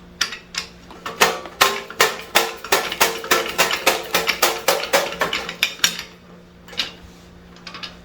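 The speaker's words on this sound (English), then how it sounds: "Done with all the slicing the potatoes." A WICHEMI commercial slicer cutting potatoes makes a fast, steady series of sharp chopping clacks over a low motor hum. The strokes are loud and close, then slow and thin out toward the end, with no voices.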